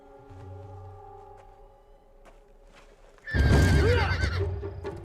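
A loud horse whinny bursts out close by after a few quiet seconds of faint tones and shuffling, its shrill cry rising and falling.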